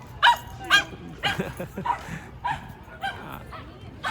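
A dog in a park barks and yips repeatedly in quick, uneven bursts, fairly close and loud, with people's voices faintly audible in the background.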